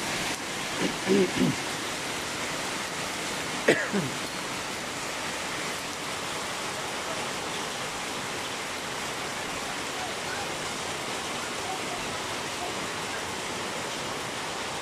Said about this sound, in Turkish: müthiş bir dolu yağışı sayın izleyiciler.